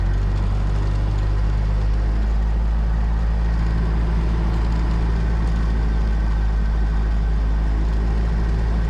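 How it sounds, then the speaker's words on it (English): A small training airplane at Merrill Field in Anchorage, Alaska, holds its engine at a steady, droning run-up before a student solo flight, a constant low rumble with no talking. "I do an engine run up and another checklist"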